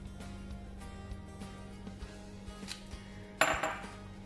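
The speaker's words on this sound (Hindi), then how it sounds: "अब हम इसको अच्छी तरह से मिक्स करेंगे" A spoon stirs an oats coconut laddu mixture of dry-roasted ground oats powder and flaxseed in a bowl, giving soft, faint scraping taps that end in one sharper metallic clink.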